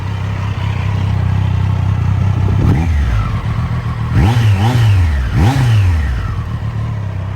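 A stock 2025 Triumph Street Triple 765 R engine idling, then blipped in three quick revs that rise and fall sharply, loud and close, with idle resuming in between.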